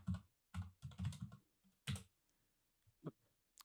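Typing on a computer keyboard, close, quick clusters of key clicks followed by a few scattered single taps, faint overall.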